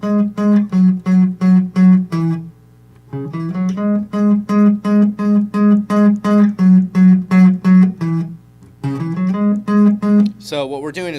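Electric guitar plays the short repeated tag hits from a song, a quick run of punchy rhythmic stabs in bursts with brief gaps between phrases, loud and close.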